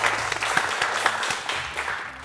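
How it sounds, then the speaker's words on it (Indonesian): An audience claps through its whole length at a talk on motorcycle technology innovation. The applause is steady, full and close. "tepuk tangan sekali lagi buat Mas Sena Ponda."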